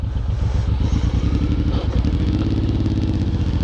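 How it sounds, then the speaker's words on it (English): A Suzuki M109R motorcycle pulls away with its clutch grabbing, heard as a loud, close, low engine chug with a jerky, pulsing rhythm that smooths out as it accelerates. "When I would take off, my clutch would grab."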